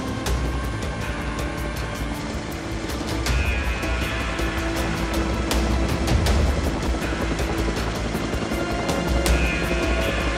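French Navy rescue helicopter at sea during a fishing-boat medical airlift, its steady rotor thrum and engine roar loud and continuous, mixed with wind and waves and no speech.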